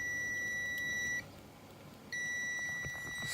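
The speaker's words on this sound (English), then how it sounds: "So as you can see, it beeps" Multimeter continuity test on motorcycle stator wiring, a steady high electronic beep held for about a second, a brief gap, then the tone returning, with faint handling clicks underneath.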